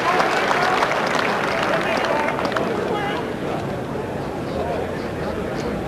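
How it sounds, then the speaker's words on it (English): A cricket crowd gives a good ball a loud, sustained reception, a dense roar of applause and voices that holds steady and eases slightly toward the end. "listen to the crowd, they'll give this a bit of a reception"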